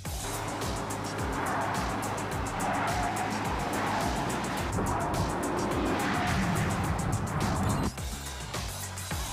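Volkswagen Atlas SUV performing an obstacle avoidance test, with loud sustained tire squeal and engine noise as the vehicle swerves, ending in a brief drop near the end.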